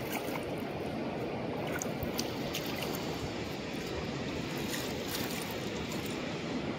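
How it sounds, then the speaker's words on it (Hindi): Fast-flowing cold river water at Rishikesh rushes steadily in a continuous broadband roar, fairly faint and distant, with no talk over it. "देखो आगे भाव देखो कितना तेज है"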